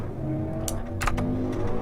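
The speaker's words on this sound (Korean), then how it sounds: "오토바이 소리가 요란하게" A loud motorcycle passes outside, a rough, steady engine drone with a brief rise in revs, heard through the room with no talking over it.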